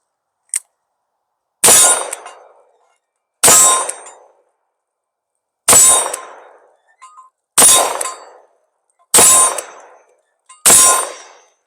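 Six loud, sharp revolver shots from a Smith & Wesson Model 10, spaced about two seconds apart with short ringing tails and silence between, preceded by a faint click.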